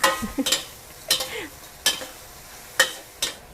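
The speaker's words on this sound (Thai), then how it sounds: "ผัดค่ะใช้ไฟแรง ช้ไฟแรงในการผัดเลยนะคะ" Squid with salted egg and sauce is stir-fried over high heat, with loud spatula scrapes and clanks against the pan coming every second or so above a steady sizzle.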